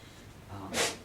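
A single faint sneeze near the end of a short quiet stretch during a talk, preceded by a soft breathy intake.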